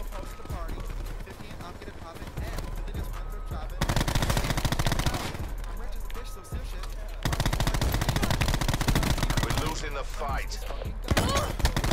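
Automatic fire from the DAEMON 3XB MKII in a video game, long sustained loud bursts of rapid shots with short pauses between them, and someone talking alongside.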